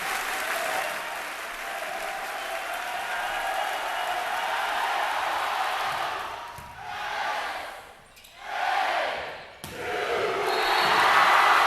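Spectators cheer and applaud at a men's college volleyball semifinal in a gym, a loud sustained roar that dips briefly, then swells again.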